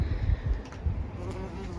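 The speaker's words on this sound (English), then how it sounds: "Ooh, a bee." A bee buzzes in a wildlife garden, a close, steady drone with a slight waver that continues throughout.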